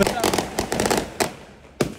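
Firecrackers burst in a favela in Manaus, a rapid irregular string of sharp loud cracks followed by two isolated pops, with a voice talking alongside.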